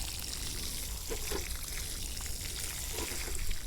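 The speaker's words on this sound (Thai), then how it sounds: "เสร็จก็รดน้ำครับ น้ำให้เข้าหน่อยนะครับปลูกใหม่ๆ" Water is poured onto the soil around a newly planted jackfruit tree, making a steady, soft splashing trickle nearby with no talk.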